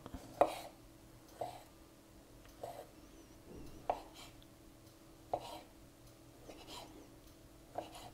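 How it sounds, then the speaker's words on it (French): A knife chops peeled kiwi finely on a board, faint, evenly spaced single taps, about seven in all, with quiet pauses between them. "on va couper le kiwi, on essaie d'avoir quelque chose d'assez fin"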